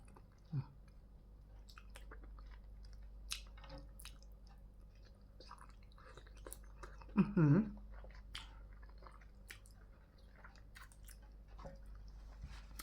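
Someone eats braised pork leg noodle soup, soft close chewing and small wet squishes recurring quietly through a steady low hum, with a louder burst of mouth noise near the middle.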